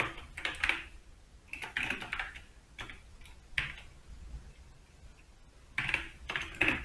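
Quiet keyboard typing while a program is written, bursts of rapid key clicks separated by short pauses, close and fairly soft with no talking.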